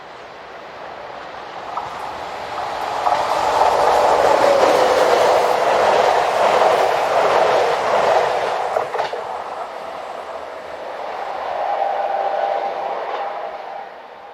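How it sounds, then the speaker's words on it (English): Locomotive number 16726 rounds a curve hauling a commuter train from Épinal, a steady rolling rumble that builds as it nears, holds loud, eases slightly, then swells again with faint wheel clatter and no voices. "Finally, number 16726 rounds the curve whilst working this commuter service from Épinal."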